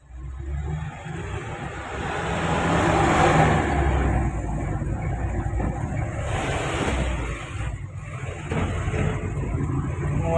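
Traffic noise in a road jam is a dense, steady rumble of engines and moving vehicles, close and continuous, mixed with a heavy wind buffeting the microphone and no talking.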